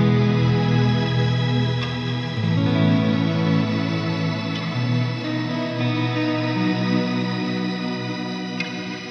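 A guitar played through a Strymon BigSky reverb pedal in shimmer mode gives a huge, continuous cloud of octave-up harmonics with chords shifting beneath it, loud and steady throughout with no voices.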